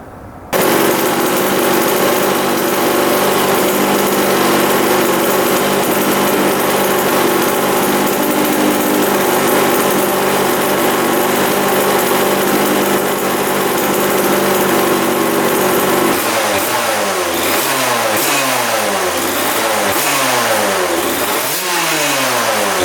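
A 2-stroke dirt bike engine, newly fitted with a fresh spark plug, idles loudly and steadily up close, then is revved in a series of rising and falling blips toward the end.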